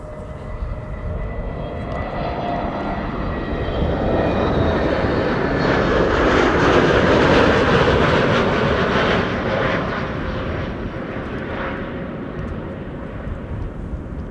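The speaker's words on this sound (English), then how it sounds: "Transavia A321neo is coming in from Kusamo" A Transavia Airbus A321neo jet arrives at Amsterdam Schiphol from Kuusamo, Finland, its engine roar swelling to a loud broadband peak mid-pass, then slowly easing back into a steady rumble.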